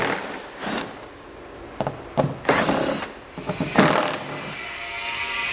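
A power tool backs out 10 mm screws along the rear edge of a 2015 Toyota Sienna bumper, firing in short separate whirring bursts with pauses between, close and moderately loud, with no talking.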